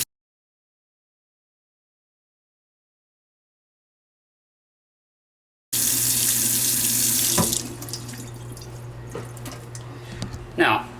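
Tap water runs into a sink to rinse out a net, starting abruptly after several seconds of silence and gushing steadily, then softening into splashing and dripping near the end.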